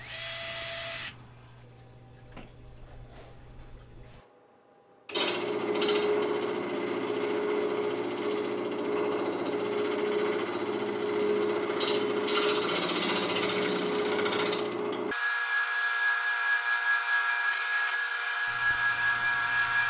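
A woodturning lathe cuts a bowl of pinecones cast in epoxy resin, throwing long shavings in a warm shop, giving a steady, loud, continuous scraping roar with a shift in tone near the end after a brief quieter start.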